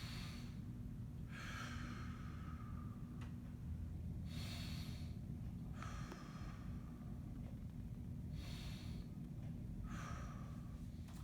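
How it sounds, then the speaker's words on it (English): Slow diaphragmatic belly breaths taken while seated in a hip stretch, with three audible inhale-exhale cycles, airy and close, over a steady low background hum. "we're gonna get 3 belly breaths, 3 diaphragmatic breaths from here."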